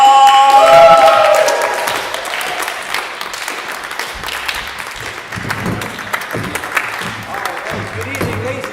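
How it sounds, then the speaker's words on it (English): Crowd applause at a live comedy show that starts loud and gradually thins out, with scattered claps and a voice speaking over it near the end. "please give a huge round of applause to our Saturday night host team"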